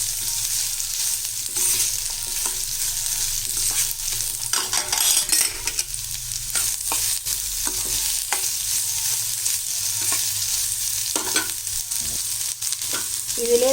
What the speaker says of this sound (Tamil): இந்த வெங்காயம் இது நல்லா வதங்கட்டும் கொஞ்சம்.